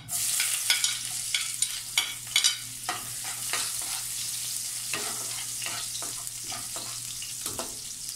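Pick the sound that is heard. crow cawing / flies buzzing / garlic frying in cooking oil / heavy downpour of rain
garlic frying in cooking oil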